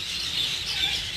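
Cockatiels in a breeding setup give a steady wash of high chirps and tweets, several birds calling at once from nearby without pause, no talking.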